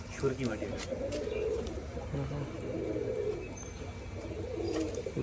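Pigeons at a Rajshahi colour-matching pigeon farm coo in low, repeated phrases while pecking at sand and stones, with scattered light clicks. People talk nearby throughout.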